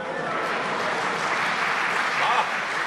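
Applause from the audience at a Hindi comedy poetry recital, a dense and steady clapping that stays loud and fairly close throughout.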